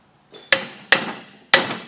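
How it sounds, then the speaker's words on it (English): A brass hammer taps a valve on a small-block Chevy engine, three sharp metallic knocks about half a second apart, each ringing briefly before fading, close and clear in an otherwise quiet space. "brass hammer or bronze hammer, give it a little tap."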